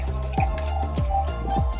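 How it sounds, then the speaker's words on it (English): Water splashes and glugs into a bucket of acrylic render mix in three or four distinct pours, wet and close, with a faint steady hum underneath. "we're splashing a bit of water in now"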